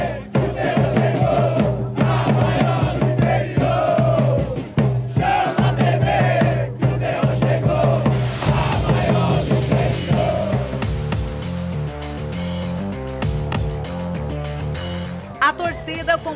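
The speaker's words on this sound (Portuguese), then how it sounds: "a torcida está fazendo sua parte, incentivando o Mineiros Esporte Clube" A large crowd of fans at a third-division Brazilian championship quarterfinal supporting Mineiros Esporte Clube chants and cheers loudly and steadily throughout, with a sustained roar and chanting voices, and the sound turns busier and more percussive in the second half.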